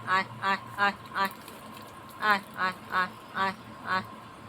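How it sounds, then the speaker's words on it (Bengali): Ducks quack while feeding, in two clear bursts of rapid, rhythmic calls: four quacks, a short pause, then five more, close and fairly loud. "হাঁসগুলো এখন খাচ্ছে"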